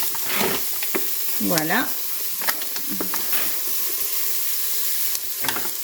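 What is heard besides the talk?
deglazing pan with a wooden spatula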